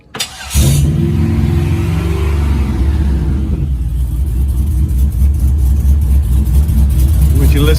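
A Chevy Apache truck engine fires up after a brief crank and settles into a loud, deep, rumbling idle with occasional revs, recorded close, with a voice briefly audible over it.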